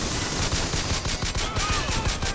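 Rapid handgun gunfire in the shooter game Bioshock Infinite, a dense run of loud repeated shots over a busy battle din with no gaps.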